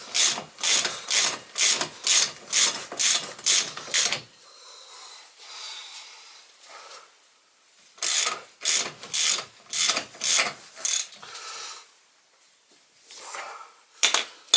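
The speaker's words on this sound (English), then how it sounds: "I'm just going to draw that on with a 1/2 inch ratchet" A half-inch ratchet draws up a drive shaft bolt on a Yamaha YXZ, clicking in loud rhythmic bursts of rapid strokes, pausing, then resuming in a second run of ratcheting with a final quick burst at the end.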